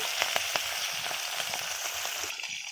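Pabda fish frying in a kadai make a close, lively sizzle with sharp crackling spits early on that settle into a softer hiss.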